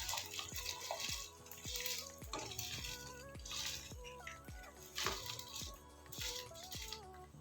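Rice is washed in water at home for a Hyderabadi dum biryani: repeated sloshing and splashing strokes in a steady rhythm, close and fairly quiet, with no talking.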